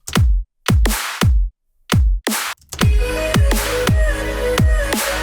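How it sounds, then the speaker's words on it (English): A bare kick and snare drum pattern plays alone, punchy hits alternating at a steady pace, then fuller tonal layers join in behind the beat. "the pattern of the kick and snare is this"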